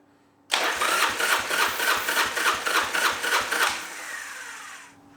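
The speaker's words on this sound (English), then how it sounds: "we'll crank her over and see what the front cylinder looks like" A Yamaha XV1000 Midnight Special V-twin motorcycle engine cranks over on the starter for a compression test, a steady loud run of rhythmic chugging pulses for about three seconds before cutting off into a fading whir.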